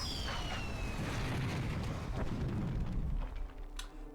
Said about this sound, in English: Pull the lever to launch the rockets